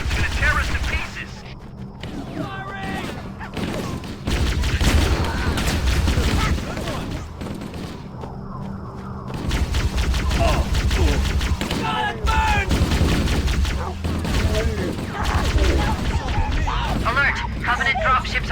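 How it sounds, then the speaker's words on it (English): Stationary gun turrets fire in Halo: Combat Evolved Anniversary, with repeated loud bursts and booming blasts throughout as people talk and shout over the combat. "Those stationary guns are gonna tear us to pieces!"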